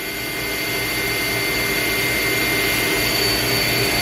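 A 2022 TRAK TMC7 vertical machining center spindle spins up toward 2,000 RPM, giving a steady, loud, continuous mechanical whine and hum that holds evenly throughout with no talking.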